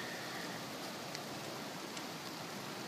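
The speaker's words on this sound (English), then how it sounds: "I'm actually noticing some ice pellets coming down" Sleet and hail ice pellets pour down hard in a winter storm, at about freezing, making a dense, steady hiss of countless tiny impacts with a few faint ticks and no voices.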